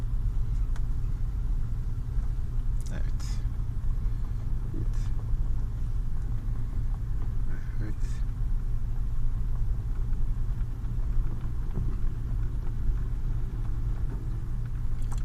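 Car driven by a first-time learner driver under light throttle, a steady low engine rumble and road noise inside the cabin for fifteen seconds, with occasional faint knocks and no talk.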